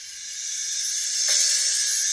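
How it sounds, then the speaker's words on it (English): A bright, hissing wash swells gradually louder over two seconds, rising toward a peak like a cymbal played backward, with no voices. "So it's like a reverse crash."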